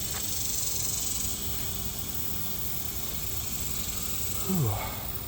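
The sear burner of a Napoleon Prestige 500 gas grill hisses steadily at close range, a faint continuous rush with a brief click and swelling whoosh as it ignites near the end.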